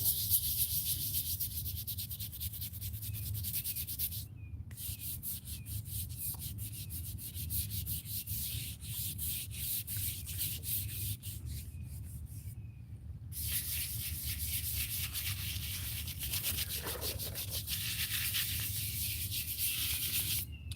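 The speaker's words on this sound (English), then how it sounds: "And now we get the scrubbing." Brush scrubbing a cemetery headstone coated in D2 cleaner to remove mold and mildew, rapid rhythmic rasping strokes running steadily and close, with two brief pauses.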